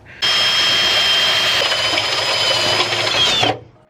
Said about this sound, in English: So I'm gonna use a Christmas tree bit, and I'm gonna do 1/2 inch